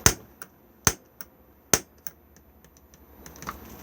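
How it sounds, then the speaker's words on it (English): A piezo igniter on a caravan gas fridge in an Elddis Suntor 115 clicks sharply three times at roughly even spacing, close and crisp, with softer ticks between and after. "come across to the temperature control and push it in, and then hit the igniter"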